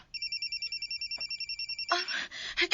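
A mobile phone rings with a repeating electronic two-tone pattern of short pulses, clear and alone, before a burst of louder noise and voices cuts in.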